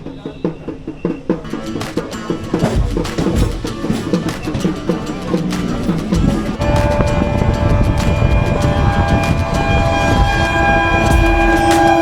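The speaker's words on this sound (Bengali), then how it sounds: "সঠিক সময় আমাদের ট্রেন ছেড়ে দিল।" A local passenger train on the Kolkata to Namkhana line moving off along the rails, loud rumbling and rhythmic clattering wheels with bangs and a rising mechanical whine, close and continuous.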